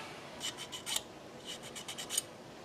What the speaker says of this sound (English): We're going to sand down there and see how well I did.